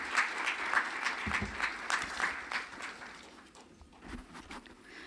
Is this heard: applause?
yes